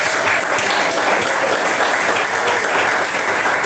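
Worshippers at a Portuguese-language church service clap their hands together in a dense, even roar of applause, steady and unbroken throughout with no speech on top.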